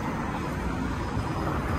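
Traffic on a busy street at a pedestrian crossing forms a dense, continuous wash of road noise and vehicle rumble, steady and fairly loud with no single passing vehicle standing out.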